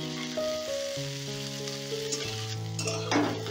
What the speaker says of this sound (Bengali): এবার এগুলোকে ভালো করে ভেজে নেব।